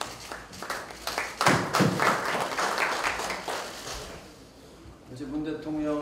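Applause from the audience at a political party's joint leadership and lawmakers' meeting, a burst of clapping that swells and then fades, with voices mixed in underneath.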